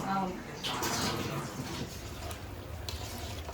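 Crabs frying in a pan for a home-style Telugu kitchen cook-up, giving a steady broadband sizzle and hiss with a bubbling, watery texture throughout, while voices talk over it.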